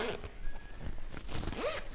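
Zipper on a stylish shoulder bag being pulled open and closed in a few quick, raspy strokes, close and fairly loud, with a faint voice murmuring briefly.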